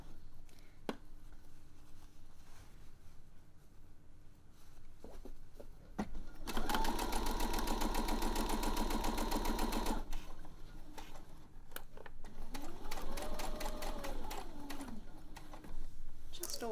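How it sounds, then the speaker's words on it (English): A sewing machine stitches the side seam of cotton knickers in a few bursts, the longest a steady rapid mechanical whirr lasting several seconds, close by, with quiet handling clicks in between and a soft voice speaking. "Always holding that seam down as I stitch it, just to make sure it sits nice and flat"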